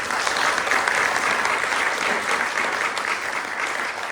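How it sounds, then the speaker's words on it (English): Festival audience at a mono-acting stage event gives sustained, dense applause, loud and even throughout with no pauses. "big round of applause"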